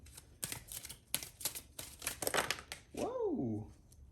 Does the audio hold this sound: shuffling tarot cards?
yes